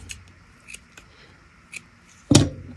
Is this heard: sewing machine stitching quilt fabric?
no